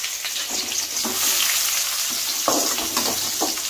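Onions frying in hot oil with whole spices for chicken biryani, a steady close sizzle with a few stirring scrapes of the pan, no talking.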